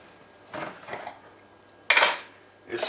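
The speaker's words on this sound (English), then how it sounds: "I'm just going to spoon them into the strainer until I've got about half a cup" A spoon scoops food into a strainer in a few quiet, close metallic scrapes and clinks, with a sharper, louder clatter near the end and no talking.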